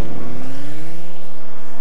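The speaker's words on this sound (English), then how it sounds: "The new 375 horsepower Hyundai Genesis can go from 0 to 60 faster than a Porsche Boxster." A 375-horsepower Hyundai Genesis accelerates hard, its engine note climbing steadily in pitch with rising harmonics for a couple of seconds, loud and close with no talk.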